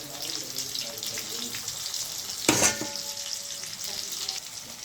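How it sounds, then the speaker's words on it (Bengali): Fish frying lightly in a pan with garlic paste, salt and chopped small tomatoes gives a soft, continuous sizzle, with one brief louder burst of spitting and a stirring clank midway; nobody talks. "এগুলো এখন হালকা করে ভেজে নেব।"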